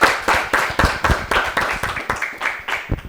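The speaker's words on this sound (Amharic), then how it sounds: "አጨብጭቡለት በደንብ አድርጋችሁ አጨብጭቡለት።" A school quiz audience applauds a student contestant, giving about a dozen loud, evenly spaced bursts of clapping that sound close and fairly sparse, with no talking over them.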